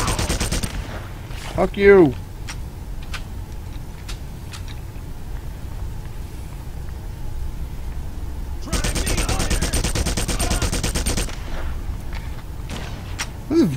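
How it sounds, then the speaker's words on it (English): Bursts of heavy machine gun fire in the Red Faction shooter game, a long sustained stream of rapid shots late on with scattered single reports before, under a man's brief swearing. "Really damn accurate for being a heavy machine gun."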